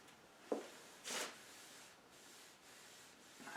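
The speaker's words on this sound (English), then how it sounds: "I'm just going to give this a quick light wipe" A cloth gives a painted wooden Murphy bed panel a quick light wipe. A few faint, soft rubbing swishes come up close in a quiet room with no talking.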